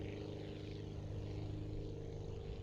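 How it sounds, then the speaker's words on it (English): Propeller plane engine in the Aviassemble video game, a steady droning hum with constant tonal buzz, held throughout without variation. "the plane is struggling to get some speed now"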